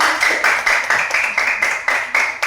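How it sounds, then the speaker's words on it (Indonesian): A classroom group claps in unison for another group's performance, a regular rhythmic beat of about ten sharp, close claps, fairly loud and without talk. "Untuk kelompok lain silakan berikan tepuk tangan."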